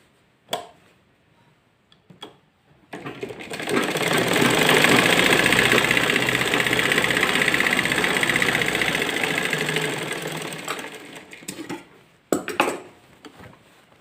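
A sewing machine stitches the seam of a salwar in one continuous loud whirring run of about eight seconds, with a few soft handling clicks before and after.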